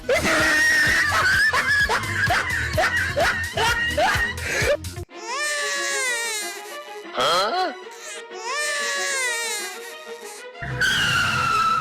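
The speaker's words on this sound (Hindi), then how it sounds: "अरे ये किसके रोने की आवाज है बेटा?" A baby in a cartoon wails and screams loudly in long rising cries with short gasps between them, following a stretch of lively cartoon music and effects.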